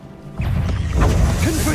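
Revelio spell cast in Hogwarts Legacy gives a sudden swooshing surge followed by bright shimmering crashes and whooshes, close and loud across a short burst of magic.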